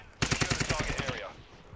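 A rapid burst of automatic gunfire from a weapon in Call of Duty on the Punta Mar map, about a dozen evenly spaced sharp shots close by, then a short fading tail.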